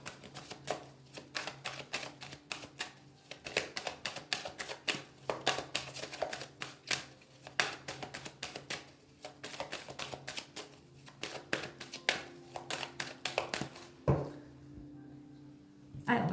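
Oracle cards being shuffled in quick, dense bursts of riffling and sliding, steady and close for most of the stretch, ending with a single knock and a brief quieter pause.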